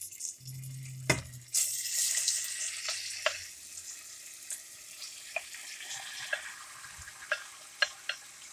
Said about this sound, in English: Yeah, you hear it sizzle?